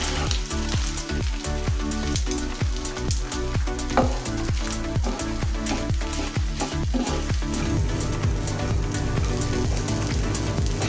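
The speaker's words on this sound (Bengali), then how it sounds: "চালটা একদম ভাজা ভাজা হয়ে গেছে।" Rice fries loudly in a pot for saffron sinni, a steady close sizzle that runs throughout, broken by repeated scraping stirs with no voices.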